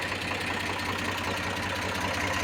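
An Eicher tractor engine with a Ricardo engine idles steadily, a continuous low mechanical drone with a constant rumble and no voices.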